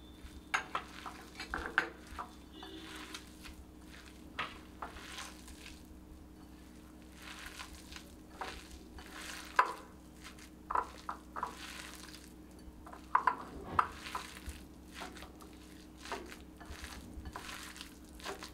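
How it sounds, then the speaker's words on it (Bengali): Leafy greens hand-mixed with gram flour and sesame for fritters, heard as quiet, intermittent squishing and soft taps against a bowl, close up over a low steady hum, with no talking. "আমাকে অল্প অল্প করে বেসন দিয়ে মাখতে হবে।"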